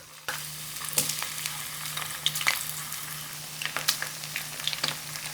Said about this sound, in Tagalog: Medyo lubog dapat sa mantika yung patatas nyo. Pirituhin natin to into medium heat.